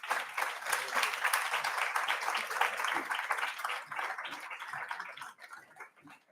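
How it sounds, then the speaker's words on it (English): Audience applause at a youth leadership summit in Africa, a dense sustained clapping from a large crowd that thins and fades toward the end. "can we give another round of applause, please?"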